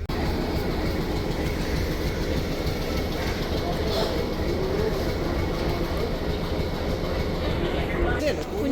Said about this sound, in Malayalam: മുന്നിൽ ഭയങ്കര ട്രെയിൻ പോവാൻ നിൽക്കുക കേട്ടോ